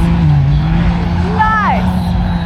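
A car driving over a jump at the Little Sahara sand dunes, its loud engine roaring steadily close by and rising briefly in a revving whine as it launches.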